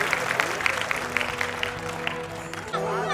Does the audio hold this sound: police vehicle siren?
no